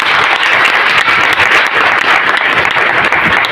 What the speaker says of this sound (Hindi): तालियां होनी चाहिए एक बार।